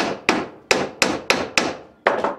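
A hammer strikes wood about seven times in a steady rhythm while a screened bottom board for a five-frame beehive nuc is being built, the last two blows coming close together. Each hit is loud, close and sharp, and each one rings out briefly.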